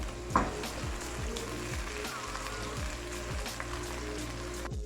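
Chopped onion and large, thickly cut tomato pieces fry in melted ghee with a steady, close crackling sizzle, a brief clatter as pieces drop in near the start, no voices.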